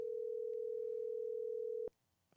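A telephone call tone sounds as a steady, continuous electronic hum for almost two seconds, then cuts off abruptly, leaving a faint click and near silence.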